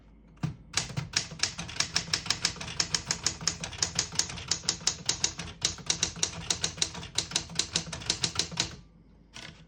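A 1970 Smith-Corona Super Sterling portable typewriter being typed on in red ribbon mode, a fast, steady run of crisp, close key strikes for several seconds before a brief pause and a final few taps.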